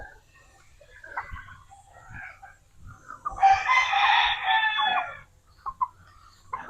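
A rooster crows once, loud and close, amid scattered clucking from free-range hens in a quiet yard.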